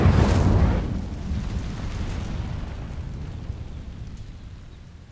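Incendio fire spell cast in Hogwarts Legacy, a loud burst of flame at the start that rolls into a fading crackling rumble over several seconds.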